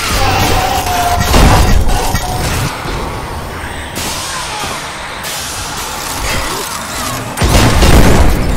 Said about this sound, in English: There's so many exploding things